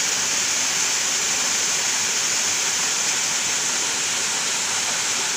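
Ambon Falls in Laiya, Lobo, Batangas pours in a steady, loud broadband roar of falling water, unbroken and constant throughout with no voices.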